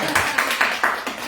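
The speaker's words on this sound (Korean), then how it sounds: "박수" Short bursts of applause from a church congregation during a sermon, several quick swells of clapping in a row, moderately loud with no voices over it.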